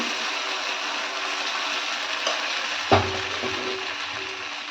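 Dosa batter spread in a thin layer on a hot oiled pan gives an even, continuous sizzle. A single clack of the ladle against the pan cuts in midway.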